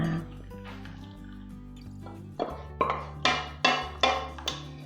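Lentil soup pours into a sieve, first a soft liquid trickle and then a run of wet splashy plops and drips up close, alongside a low background hum.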